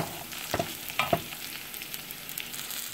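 Onions, garlic and cumin frying for keema with green chilies, a soft steady sizzle broken by a few sharp stirring scrapes early on, close and moderately quiet with no talk.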